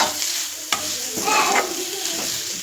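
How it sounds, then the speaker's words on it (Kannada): Grated coconut frying in a pan with leafy greens for a soppina palya: a steady, close sizzle with stirring scrapes and a sharp clink partway through, and no talk. "ತೆಂಗಿನಕಾಯಿ ತುರಿಯನ್ನು ಕೂಡ ಸೇರಿಸಿ ಅದನ್ನು ಕೂಡ ಸ್ವಲ್ಪ ಚೆನ್ನಾಗಿ ಫ್ರೈ ಮಾಡ್ಕೋಬೇಕೀಗ"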